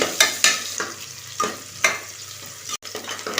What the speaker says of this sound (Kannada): ಫಸ್ಟ್ ಈರುಳ್ಳಿ ಹಾಕೊಳ್ಳಿ, ಅದನ್ನು ಫ್ರೈ ಮಾಡ್ಕೊಳ್ಳಿ ನೀಟಾಗಿ.